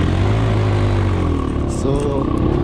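Motorcycle engine droning steadily and loudly while riding on a hiking trip near Kathmandu, a continuous close rumble with wind buffeting.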